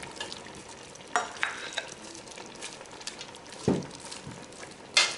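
Onions fry quietly in a quail tagine, a soft low sizzle with a few sharper clinks and stirring knocks scattered through, close but faint.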